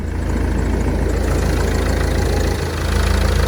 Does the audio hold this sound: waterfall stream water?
no